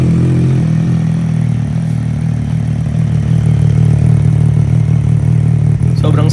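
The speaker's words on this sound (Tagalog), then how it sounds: "isa-soundcheck na natin itong bago nating muffler from Force Sound at Rising Motorcycle Parts" A motorcycle fitted with a Force Sound full-system exhaust muffler runs loud and close, a deep, steady engine drone held at a constant pitch with no speech over it.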